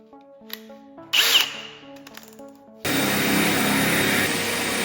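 A power drill boring holes into the corners of a fireplace build, starting with short bursts and pauses between tonal whirs, then settling into a loud, sustained grinding drone.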